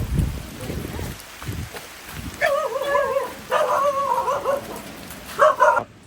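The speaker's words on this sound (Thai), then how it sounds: "ตอนนี้น้องหมาก็เห่าเรา" A village dog barks and yips in short bursts, fairly close, amid rain and rustling, with quieter movement sounds before it.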